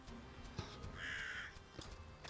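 A crow caws in the video game Vikings: Wolves of Midgard, a single rasping call standing alone, fairly faint and slightly distant over a low ambient background.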